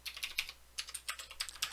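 Rapid keystrokes on a computer keyboard while typing in a Korean word processor during an ITQ Hangul lesson, the clicks close and clear in quick irregular bursts with no voices.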